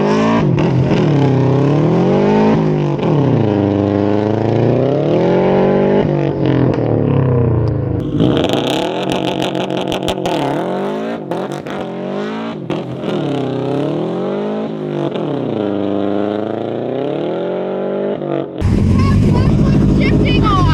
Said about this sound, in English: car in first gear, clutch in, and then you're gonna just smash the gas down.